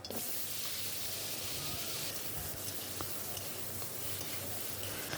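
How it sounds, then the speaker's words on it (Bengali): Potatoes frying in a wok of hot oil that was just used for pointed gourd: a steady, dense sizzle and crackle runs unbroken and evenly loud throughout, with no talking. "ওই একই তেলে আমি এবার আলুগুলো ভেজে নেব।"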